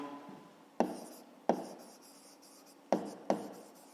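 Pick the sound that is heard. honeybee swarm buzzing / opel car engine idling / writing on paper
writing on paper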